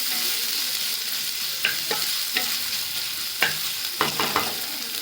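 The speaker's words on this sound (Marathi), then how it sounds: "हिरव्या मिरच्या कांदा चांगला नरम होईपर्यंत शिजवून घ्यायचा" Green chillies and chopped onion fry in a pan for a spicy baby-shrimp dish, with a steady hiss of sizzling oil and several sharp spoon scrapes and taps as the mixture is stirred.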